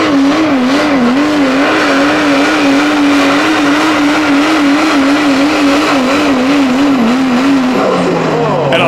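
A Pro Stock diesel pickup truck strains through a pull at a truck-pulling event, a loud sustained engine drone with a slowly wavering pitch that holds steady, then drops off near the end.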